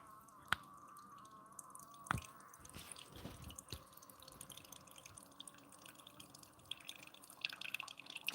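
A Keurig K-Supreme coffee maker drips as it brews slowly: a few sparse, soft drip ticks spaced seconds apart over a quiet, steady background hiss.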